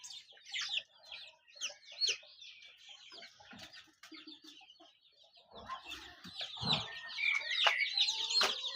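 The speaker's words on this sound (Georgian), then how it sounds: "კრუხებას გამოჩეკეს სიცილები ბლომად" A mother hen clucking among her newly hatched chicks, with soft repeated clucks and high, busy peeping of the chicks throughout, fairly close and louder toward the end.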